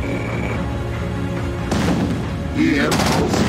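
Real-time strategy battle with bursts of gunfire and booming explosions, growing louder toward the end, with a game voice announcing alerts over the combat.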